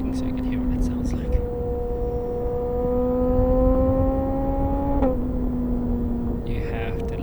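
A BMW HP4 Competition motorcycle engine hums at a steady tone, rises in pitch, then drops sharply as it shifts, a clear mechanical whine up close with a faint voice near the end.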